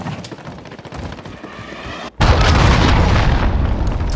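Cruise missile explosion in the Call of Duty Modern Warfare beta, a sudden loud boom that cuts in after a brief hush and rolls on as a dense rumbling blast over earlier gunfire-like clatter.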